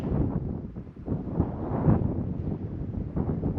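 Gusting wind buffets the microphone on the exposed side of a High Country mountain lookout, low rumbling bursts rising and easing without any voices.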